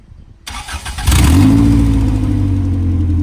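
A Honda CRX engine with an open header fires up and revs, a loud, close raw exhaust bark that settles into a steady, throaty idle after the first second, with no talk over it.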